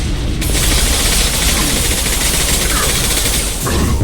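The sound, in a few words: gunfire in Mass Effect 2 video game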